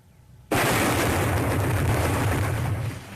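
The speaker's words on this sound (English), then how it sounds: "Firing main cannon." A main cannon fires in a video game: a sudden loud blast erupts after a short quiet lead-in, then a broad roaring rumble that holds for nearly three seconds before easing slightly.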